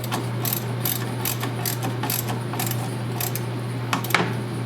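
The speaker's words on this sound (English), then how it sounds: "We'll reinstall the hardware back on the solenoid." Ratchet clicking in short bursts while refitting hardware on the solenoid of a gas 2002 EZGO TXT golf cart, close and crisp over a steady low electrical hum.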